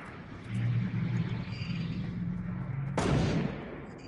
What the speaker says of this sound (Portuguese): Quem tá tirando de sniper aí?